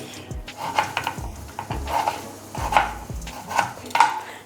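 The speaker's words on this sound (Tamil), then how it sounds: "சாம்பார் தக்காளி அரிஞ்சாச்சுங்க." Tomatoes chopped for sambar in a home kitchen on a Thai Amavasai festival cooking day: steady, close knife strikes on a board, about seven evenly spaced chops with no talking.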